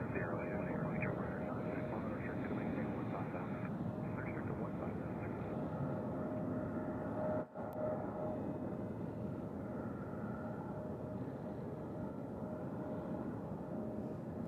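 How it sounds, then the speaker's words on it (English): A Boeing 787-900 Dreamliner airliner at Nashville International Airport gives off a steady, broad jet engine roar from a distance, continuous for the whole stretch, with faint voices. "787-900 Dreamliner"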